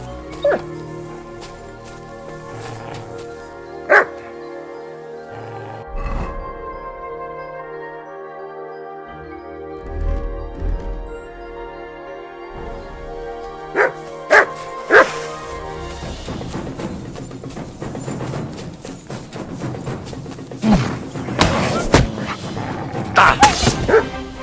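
Dog barks and whimpers in the video game Kingdom Come: Deliverance 2, a few sharp yips spaced apart over a steady musical backdrop, growing busier and louder toward the end.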